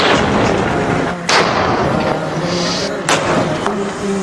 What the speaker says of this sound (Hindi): ये जो टैंक जो है फायरिंग रेंज में खड़े होकर फायर करेंगे